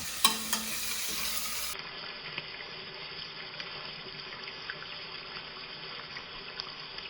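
Lightly salted vegetables sweat in a pan over medium heat for a spaghetti meat sauce, giving a steady, soft sizzle with a few small clicks and a brief louder burst at the start.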